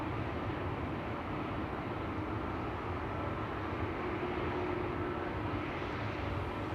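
A KLM Embraer 195 regional jet, three years old, rumbles steadily at Schiphol Airport, its engine roar broad and constant at moderate distance with no talk over it.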